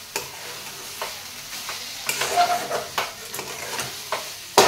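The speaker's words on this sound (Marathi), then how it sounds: "तर अशी ही पनीरची भुर्जी फुल गॅसवर 2-3 मिनिटे परतून घ्यायची आहे." Paneer bhurji fries on full gas while a spatula stirs it, sharp scraping strokes recurring roughly every second over a constant loud sizzle, close up.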